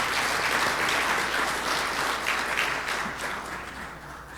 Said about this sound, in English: Let's give them a round of applause for their birthdays.